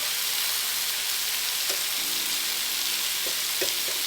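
Chicken cutlets frying in a pan give a loud, continuous sizzle with a few faint clinks and utensil taps, heard close up without speech.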